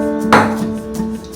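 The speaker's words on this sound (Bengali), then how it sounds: "একদম সরু সরু করে দেখুন বন্ধুরা যেভাবে ক্যামেরাতে দেখা যাচ্ছে এইভাবে আমি কেটেছি" A knife cuts through papaya on a board, picked fresh from the tree for chips: one crisp chop near the start, then a few lighter cuts over a steady background hum, with no voices.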